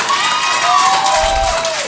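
A school board meeting audience in Fort Bend ISD breaks into loud, dense applause and cheering, with shouted voices and whoops over continuous clapping.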